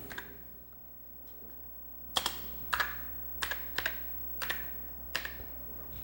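Keys are pressed on a Commodore SX-64 keyboard with some temperamental keys, a series of crisp, close clacks at irregular intervals over a low electrical hum, with no talking.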